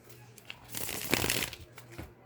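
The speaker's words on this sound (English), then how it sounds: "One last shuffle." Tarot cards riffle and flutter in a quick shuffle, close up, building to a dense burst then tapering off.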